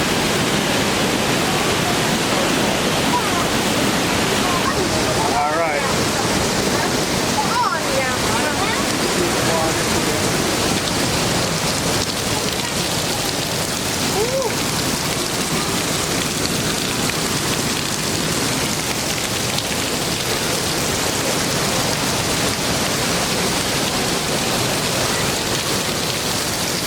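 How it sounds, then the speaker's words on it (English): A small waterfall at Watkins Glen or Taughannock pours down in a dense, constant hiss of falling water heard from up close underneath it, loud and steady throughout with a few faint voices mixed in. "So we're getting ready to go under another little waterfall."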